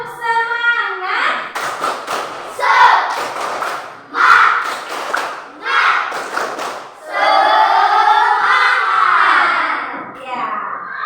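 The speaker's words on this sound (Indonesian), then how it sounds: "tepuk semangat" A classroom of children does a rhythmic spirit clap, with sharp bursts of group clapping in short patterns alternating with the class chanting together loudly up close.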